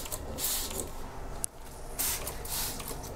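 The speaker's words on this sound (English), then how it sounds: "I'm just gonna spray these plants and I'm gonna let them drip dry" Several soft hissing bursts of a spray bottle misting houseplants, short pumps in quick succession, close by with no talking.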